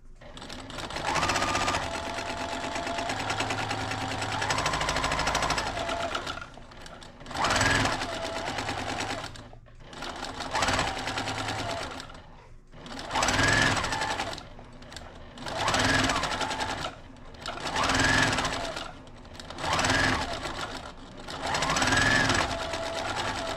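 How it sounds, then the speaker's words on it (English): Sewing machine back stitching a circular hem on fabric for a warming breadbasket, running in a steady loud whir through repeated bursts of several seconds each, separated by short pauses, with no talk over it. "I do want to back stitch at both the beginning and the end."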